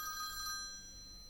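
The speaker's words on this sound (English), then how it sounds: "But then the phone rang again." A telephone bell sound effect rings once in a short bright trill that fades out, heard alone and fairly quiet.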